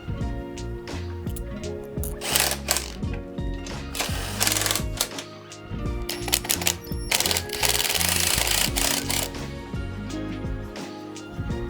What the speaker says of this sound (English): I'm going to bolt it back on.